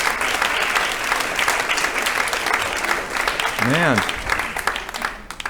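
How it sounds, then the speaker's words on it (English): A crowd bursts into loud, sustained applause that fills the whole stretch, with a voice briefly speaking over the clapping. "I wish you guys would applause like that for me."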